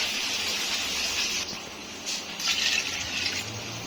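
Water poured into a pot of rice, about one and a half kilos of water onto a kilo of rice, for vegetable pulao; a steady close gushing hiss runs throughout, swelling slightly toward the end.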